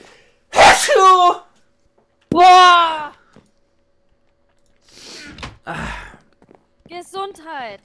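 Several loud, close sneezes from a person with a cold, sharp bursts with breathy intakes and gaps of silence between them, followed by a final softer sneeze.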